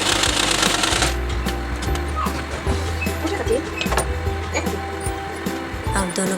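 A blouse being stitched on a sewing machine, a fast rattling mechanical run starting and stopping in bursts, close and fairly loud, with a voice talking over it.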